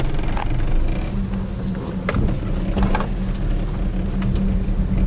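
Daewoo Lanos driving on a road, heard from inside the cabin: a steady low rumble of engine and tyres with small knocks and rattles, continuous and fairly loud throughout.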